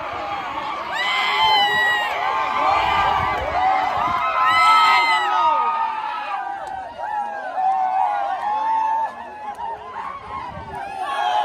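A village crowd celebrates after a Nandi bull race, with loud excited shouts, whoops and chatter swelling and overlapping, mixed with nearby voices talking.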